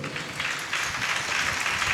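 A church congregation applauds loudly, a dense, steady wash of many hands clapping at close range for the whole stretch.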